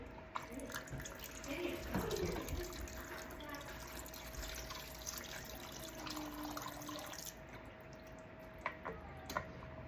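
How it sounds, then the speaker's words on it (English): Water pours into a baking dish over uncooked pasta for a one-pot baked meal, a soft, continuous trickling and splashing heard up close in a quiet kitchen, with faint drips near the end. "the trick that I've heard is to put enough water in so that it"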